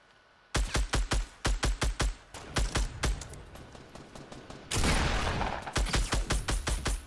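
Rapid bursts of gunfire in a Fortnite match, close and loud, fired in quick repeated volleys with short pauses, followed by a long sustained blast and then more rhythmic shots, no voices.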